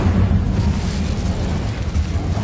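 A fiery blast from the Incendio spell in Hogwarts Legacy roars loud and close, a dense rumbling whoosh that fills the whole moment without speech.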